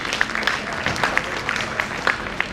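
Audience applause at a meeting: scattered claps from a modest crowd, uneven and fairly sparse, heard at moderate volume for a few seconds.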